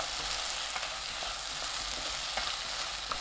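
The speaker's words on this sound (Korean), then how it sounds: "약불로 1분 볶아주세요." Minced garlic, soy sauce, ginger syrup and oligosaccharide syrup fry gently over low heat, giving a soft, steady sizzle close by with a few faint scrapes and no voices.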